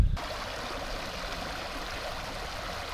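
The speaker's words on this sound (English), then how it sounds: "here is a good spot to test the audio on this rushing water." Rushing stream water outdoors, a steady broadband wash of flowing water that stays close and even throughout, with no voices.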